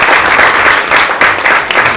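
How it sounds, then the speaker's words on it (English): Audience applause for newly presented fashion models at an Elite modelling agency event in India, a dense, steady wash of many hands clapping at close range with slight swells throughout. "I think they all deserve a round of applause"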